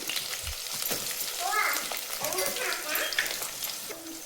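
Green chillies and onion frying in a pan for Hubballi-Dharwad girmit, a busy crackling sizzle with spattering bursts and occasional stirring, close and fairly loud throughout.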